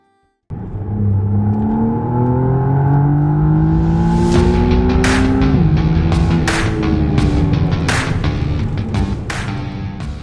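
A McLaren Artura's V6 hybrid engine revs up and climbs steadily through its range with a smooth rising whir, then shifts gears with sharp, rhythmic pops and crackles from the exhaust.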